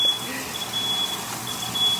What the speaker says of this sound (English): That means we're cooking something good if the fire alarm's going off.